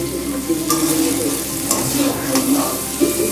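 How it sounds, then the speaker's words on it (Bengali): Tomato fries with spices in a pan under a loud, close sizzle, with repeated stirring scrapes and light knocks of a spoon as it is turned and mixed. "এই নাড়াচাড়া করব, এপিট ওপিট করব, সবটা মশলার সাথে মিশিয়ে দেব"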